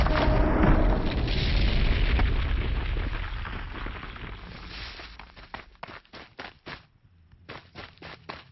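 Traps exploding in Horizon Zero Dawn, a heavy rumbling blast that rolls on for several seconds, then fades into a scatter of sharp crackling pops and thuds.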